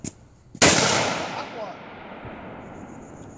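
A single sharp, loud rifle shot from a Palmetto State Armory AR15 cracks close by outdoors, preceded by a faint click and followed by a long fading echo.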